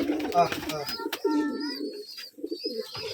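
Rajshahi pigeons, among them a female, give low throaty coos in a loft, several overlapping bursts close by, with no one speaking.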